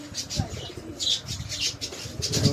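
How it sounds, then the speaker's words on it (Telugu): Pigeons kept for sale in Hyderabad coo in low, throaty bursts, with intermittent wing flaps and rustling from the birds close by, steady throughout. "ఈరోజు వీడియోలో చూస్తున్నట్టుగా పావురాలు సేల్ పెట్టామండి"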